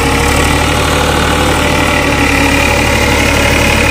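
An old tractor engine runs steadily at a constant idle, a loud continuous low rumble with a faint vibrating chug and no voices.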